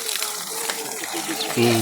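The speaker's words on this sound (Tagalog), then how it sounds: "May tubig pala dito." Water flowing in a mountain area, a steady broadband rush running the whole time, growing louder near the end, with voices talking over it.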